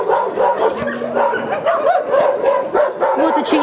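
Many dogs at a dog shelter bark and yip over one another in a constant, loud, close chorus, with a few whimpers mixed in.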